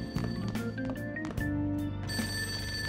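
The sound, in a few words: telephone ringing downstairs, from video game Persona 5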